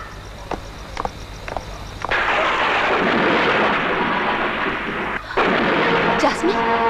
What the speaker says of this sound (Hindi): एक बहुत बड़ा तूफान आया